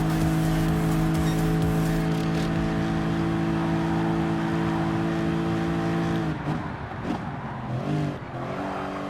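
A Volkswagen Scirocco Group 4 race car in Gran Turismo Sport holds a steady, loud, buzzing engine note at high revs. Near the end the pitch dips and rises again through a few gear or throttle changes.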